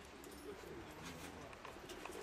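Soft pigeon cooing drifts in faintly over a quiet outdoor background as pigeons fly, low and murmuring throughout.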